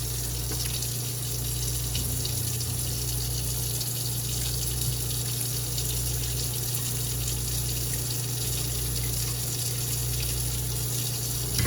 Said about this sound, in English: we pour the developer in and start our timer